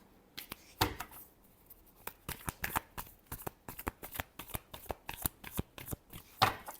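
Tarot cards are shuffled by hand in a quiet room, a rapid series of crisp riffling flicks and slaps in irregular bursts, close and fairly soft, with no talk.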